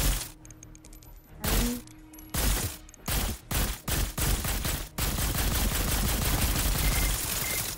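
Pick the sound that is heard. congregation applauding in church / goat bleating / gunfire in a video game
gunfire in a video game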